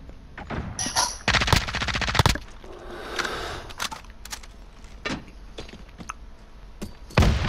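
Gunfire in Call of Duty Modern Warfare: rapid automatic bursts and scattered single shots, some loud and close, others fainter, spread unevenly across the clip, with no talking.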